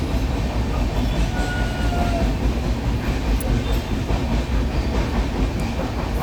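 Steady, loud rumble of a passenger train running between Mumbai and Goa, heard from inside a carriage with windows lowered in rain, a continuous roar with faint rail clatter.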